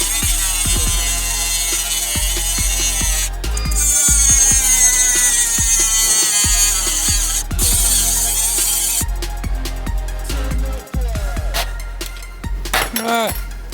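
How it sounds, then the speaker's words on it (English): An angle grinder cuts metal off a VW Golf GTD race car: a loud, close, high whine with repeated bursts and brief pauses as it bites and lifts, plus some clinking near the end. "So let's get grinding."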